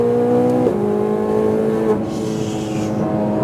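Ferrari 488 Pista on a racetrack, its loud engine note climbing steadily, then a sharp gear shift drops the pitch, followed by another climb and a second shift near the end, close and continuous with no talking.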